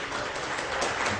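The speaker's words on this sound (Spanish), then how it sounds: "Vamos a darle un fuerte aplauso" Conference audience gives a brief round of applause for a speaker about to present a Bitcoin and privacy talk, a short steady wash of clapping at moderate volume.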